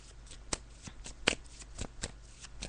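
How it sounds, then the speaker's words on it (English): Tarot cards are shuffled during a live psychic radio show, giving a run of soft papery riffles punctuated by several sharper slaps and flicks, close and fairly quiet, with no talk. "So I'm just shuffling the cards."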